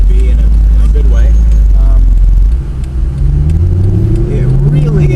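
A 2012 Mercedes SLS AMG Roadster's engine drones loud and low, its pitch climbing steadily as it revs while someone talks over it.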